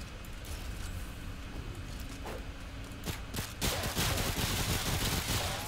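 Machine pistol fire in the game Remnant: From the Ashes, a few scattered shots that build into a dense, noisy volley of gunfire in the final seconds over a constant rumbling background.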